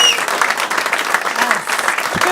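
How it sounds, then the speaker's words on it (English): Sustained, dense audience applause at a live music show, loud and steady throughout with no talk over it. "of applause, everybody."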